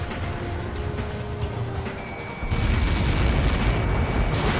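A missile impact explosion in the Ace Combat 7: Skies Unknown video game: a loud, sustained roaring blast that swells partway through into a heavier, deeper rumble, with no talking over it.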